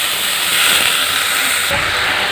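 Vegetables such as carrot and peas fry with egg for fried rice in a hot pan. A steady, loud, broadband sizzle hisses without a break, and it swells briefly near the end.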